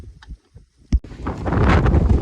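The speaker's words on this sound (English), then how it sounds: "It just might be a little windy." Wind gusts on the Pacific Crest Trail buffet the microphone, starting with a few soft thumps and then building into a loud, sustained roar.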